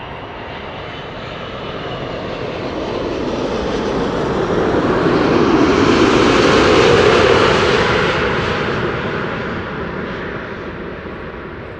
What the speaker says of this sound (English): Will the A380 use its reversers?